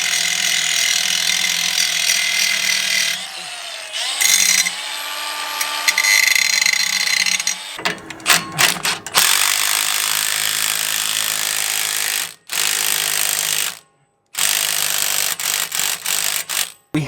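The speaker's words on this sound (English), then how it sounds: "We had to grind a little bit of this bracket off" Steel steering stabilizer bracket being ground down with a power tool: a harsh, bright whine that runs continuously, then breaks into short bursts with brief pauses, loud and up close.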